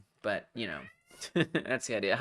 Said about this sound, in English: that's a cat. That's a cat.